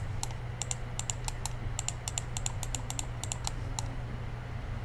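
Mouse clicks in 3D dental implant surgical guide design software, sharp short clicks in irregular bursts of two or three, close and fairly quiet over a steady low hum, with no talking.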